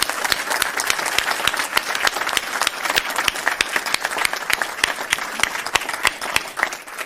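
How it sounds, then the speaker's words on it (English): A room claps for Governor Tony Evers at a state news conference on diversity, equity and inclusion in government, with steady, dense applause and sharp individual claps standing out over several seconds. "giving a very special and round of applause to our Governor Tony Evers for your executive order"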